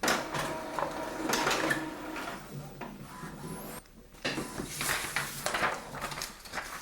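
An Epson WF-2930 inkjet printer prints a page, its carriage whirring and shuttling back and forth with mechanical clicks and paper-feed rasps, close and moderately loud, with a brief pause partway through.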